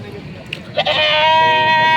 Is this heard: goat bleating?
yes